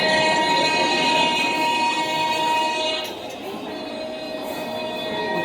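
Recorded train sound played at a school teaching-aid fair, with a sustained horn-like tonal chord over rumbling, fading slightly partway through before holding steady.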